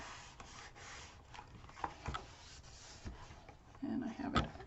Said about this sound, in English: I'm going to go ahead and burnish that really well